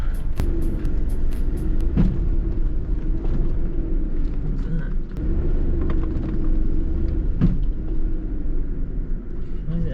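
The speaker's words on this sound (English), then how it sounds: "first start of the truck in my possession" A turbocharged truck engine running at a steady idle on its first start, a loud continuous low rumble lasting throughout, with a few faint knocks and a voice speaking briefly underneath.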